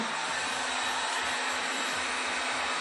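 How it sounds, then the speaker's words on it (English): A heat gun roars steadily as it blows hot air onto heat shrink tubing over bare wires for front wheel lighting, a continuous close, breathy whoosh with no talking. "Take our heat gun."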